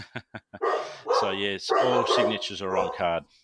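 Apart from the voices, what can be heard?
dogs barking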